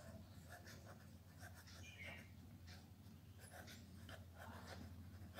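Chalk or marker scratching on a board during a Class 12 physics lesson on electric potential energy, faint irregular strokes in a quiet room.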